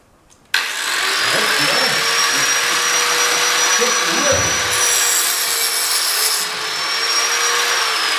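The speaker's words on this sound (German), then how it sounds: "ich probiere das einmal mit dem Zahnrad, weil ich glaube nicht, dass du da einen Flex brauchst" A power tool fitted with a toothed cutting wheel runs continuously for about eight seconds after a sudden start, a loud steady whine with slight pitch drift and occasional grinding bursts as it bites into material during a Christmas-tree craft project.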